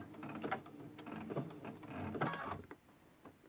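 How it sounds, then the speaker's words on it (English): A sewing machine runs a short locking stitch through the layered, quilted fabric of a trivet, a quiet mechanical whir with small needle clicks and bursts of varying speed, fading out toward the end. "Put my presser foot down. And I'm going to do a locking stitch."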